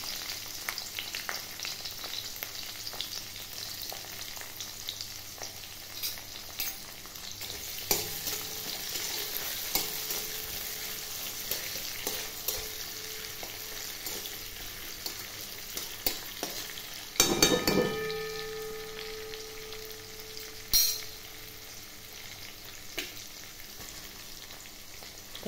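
Cumin seeds temper and chopped onion fries in hot oil for chana masala, a quiet steady sizzle with occasional stirs and a sharp clatter of utensils near the middle, no speech.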